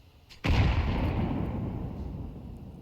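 A single loud AWP sniper rifle shot in a Counter-Strike match, a sharp close blast followed by a long, slowly fading rumble, with no voices.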